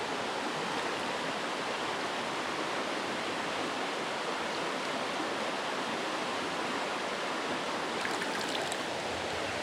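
A trout creek in Western North Carolina rushes steadily, a dense, continuous hiss of flowing water close by, unbroken throughout.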